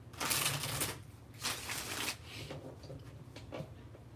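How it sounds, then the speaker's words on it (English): Tarot cards shuffled close up in several bursts of riffling and sliding, pausing briefly between passes, with a low steady hum underneath and no talking. "Let me shuffle this one."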